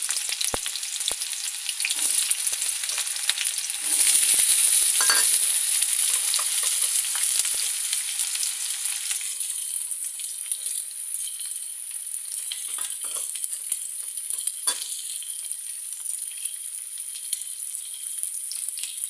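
Chopped onions fry in hot oil with bay leaf and whole garam masala, a steady close sizzle and crackle that swells around the fifth second and then settles into a softer, even hiss with a few scattered pops.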